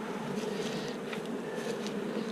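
Honeybees buzz steadily around an open hive with Gorilla Tape on it, a dense close-up hum with individual wingbeats drifting past, and no voices.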